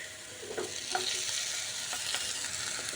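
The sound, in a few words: stirring onions and chopped tomato frying in a pan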